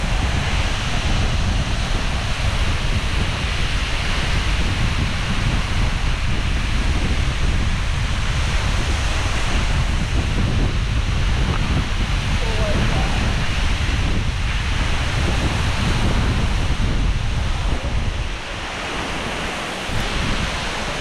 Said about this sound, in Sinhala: ඔන්න අපි දියවිනි ඇල්ල ගාවට ආවා